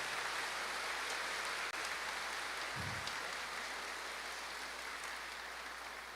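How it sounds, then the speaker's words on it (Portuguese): A church assembly at a Chrism Mass applauds its parishes, a steady, dense wash of clapping that holds at an even level for the whole stretch, with no voices on top. "Eu queria que a Assembleia desse uma salva de palmas para nossas paróquias."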